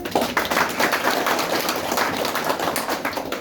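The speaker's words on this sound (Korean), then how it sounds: "박수 부탁드립니다." Guests at a clan association gathering give close, lively applause with crisp individual claps, sustained evenly for several seconds.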